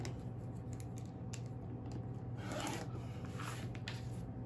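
Quilt fabric being cut at a cutting table, a faint continuous rasping slice close by under a steady low background hum, with no talk.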